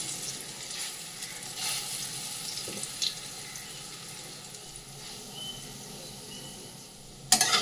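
Bora fritters frying in hot oil in a wok, a steady close sizzle and crackle running throughout, with a few brief clatters and a sharper burst near the end.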